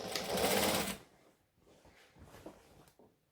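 A sewing machine stitches fabric for a Christmas tree skirt in a short, fairly loud run lasting about a second, then stops, leaving faint handling clicks and quiet shuffling.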